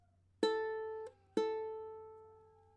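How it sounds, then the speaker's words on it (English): A single open ukulele string is plucked twice, each note ringing clearly and decaying in a quiet room. "Just make 2 sounds with the string closest to your toes."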